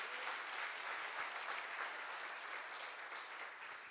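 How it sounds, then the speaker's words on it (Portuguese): A church congregation applauds steadily for several seconds, a dense, even wash of clapping with no talk over it. "Você consegue aplaudir ao Senhor pela sua palavra?"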